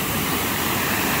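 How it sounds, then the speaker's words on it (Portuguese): A waterfall roars in Campina da Lagoa, Paraná, as a loud, dense, unbroken rush of falling water that fills the whole moment. "Por causa do barulho da cachoeira."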